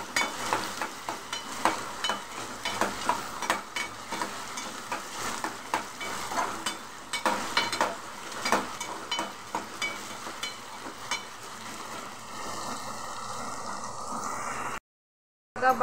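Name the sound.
potatoes being stir-fried in a pan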